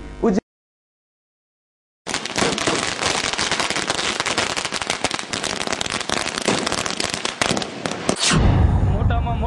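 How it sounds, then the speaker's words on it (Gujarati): Firecrackers and fireworks go off at a victory celebration at a city garden, a dense, loud, continuous crackling burst after a brief silence, with some voices at the edges. "શહેરના ત્રિકોણબાગ ખાતે આતશબાજી કરી આ જીતની ખુશી વ્યક્ત કરી"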